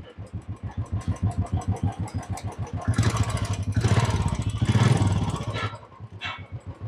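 A second-hand 350 sports motorcycle's engine runs close by in a Kolkata bike showroom, its thumping exhaust pulsing steadily before being revved twice into louder, rougher bursts and then settling back.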